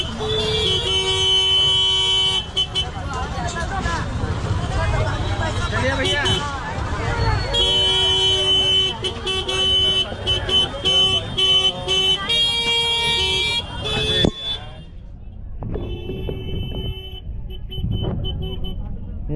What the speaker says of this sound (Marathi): थोडी ट्रॅफिक आहे इथं